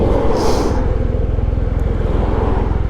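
A lorry roars past close to a Kawasaki W800 motorcycle on the road, a loud, steady rumble of engine and wind noise holding for a few seconds.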